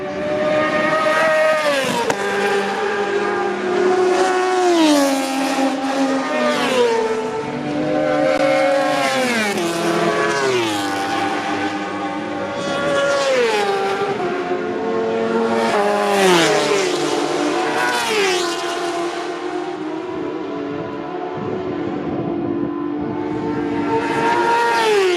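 Supersport racing motorcycles scream past at speed during qualifying at the North West 200 road races, engines loud and close, with repeated rising and falling whines as bikes approach, shift and recede in a continuous stream.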